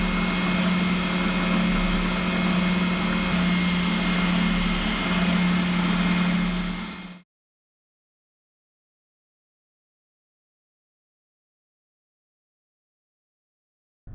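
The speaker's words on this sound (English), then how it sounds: "we're gonna come back to the bench sander." Bench sander running steadily on subwoofer box wood, a loud continuous motor drone with a strong low hum, lasting about seven seconds before cutting off abruptly into silence.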